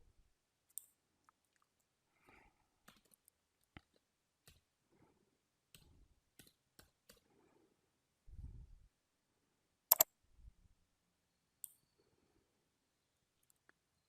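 Scattered sharp computer mouse clicks, isolated single and double clicks spaced irregularly with quiet gaps between, close and dry, no talking.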